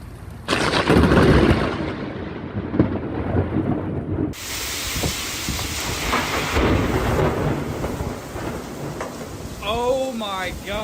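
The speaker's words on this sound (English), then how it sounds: "Incredible video sent in by viewers across the coast tonight showing a glimpse of those powerful storms that rolled through earlier today" Powerful thunderstorm on the Mississippi coast, with heavy rain pouring steadily and deep rumbling thunder, loud and close, breaking into a sharp crack midway, a voice briefly audible near the end.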